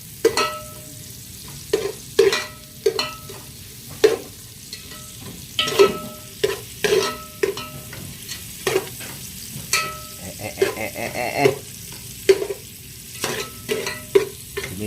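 Mung beans (munggo) are stirred in a frying pan with a spatula, giving repeated scraping strokes roughly every second over a low continuous sizzle.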